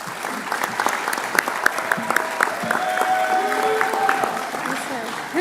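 An audience at a university faculty convocation applauds as Dr. Crilly is honored, producing steady, fairly close clapping throughout, with faint voices and a few whoops mixed in.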